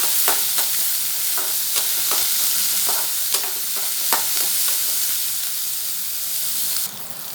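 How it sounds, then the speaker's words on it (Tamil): Chopped onions with curry leaves sautéing in a pan for a buttermilk (mor) kuzhambu, a loud continuous sizzle broken by repeated stirring scrapes at an uneven rhythm, close up, with no voices. "கட் பண்ணி வச்சுருக்கிற வெங்காயம் போட்டு நல்லா வதக்கிக்கலாம்"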